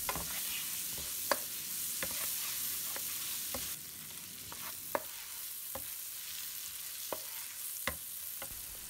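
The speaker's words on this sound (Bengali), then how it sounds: "পেঁয়াজকে একটু সফট করে ভেজে নেব" Chopped onion fries gently in a pan for white pulao, a steady soft sizzle broken by sharp, irregular scrapes and taps of a spoon stirring, close and alone with no talk.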